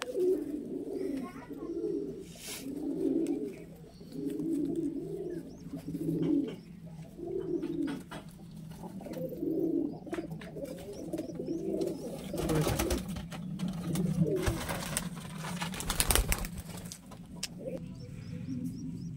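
Fancy Maddas pigeons, male and female birds kept for sale, coo repeatedly and close by in a steady rhythmic pattern of throaty, rolling calls over faint background noise.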